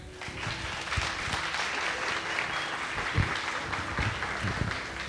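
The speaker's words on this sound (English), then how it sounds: "So everybody, courageous applause to Mr. Brandon Guffey" An audience at a realtors' mental health event applauds, a sustained broadband wash of many hands clapping with a few louder nearby claps standing out.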